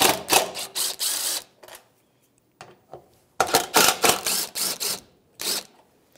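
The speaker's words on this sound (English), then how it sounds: "I'm going to take the top two ones off with a T27 socket." T27 star socket on a ratchet loosening the bumper end cap screws of a 1997-2006 Jeep Wrangler, giving bursts of rapid ratcheting clicks separated by short pauses, close and fairly loud with no talking.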